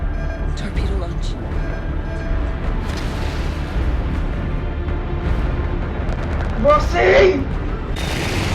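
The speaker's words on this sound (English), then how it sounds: "Torpedo launch." A torpedo launch in The Expanse TV show, heard as dense rumbling booms and a rising hiss that swells around the seventh second, mixed with loud dialogue and continuous sci-fi action soundtrack.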